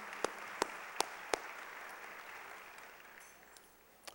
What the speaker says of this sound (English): So let's give Blake a round of applause.